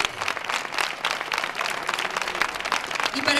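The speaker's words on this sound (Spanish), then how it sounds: "Un aplauso" Steady applause from a concert audience at a municipal music academy band concert in an auditorium, greeting the conductor; dense, continuous clapping throughout with no speech.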